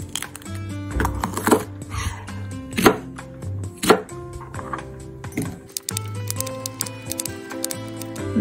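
A knife chops green bell peppers on a cutting board, giving a fast series of crisp, close, irregular thuds and clicks with no talking.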